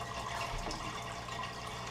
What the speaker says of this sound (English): Sorry about the noise in the background. The pipes are acting up.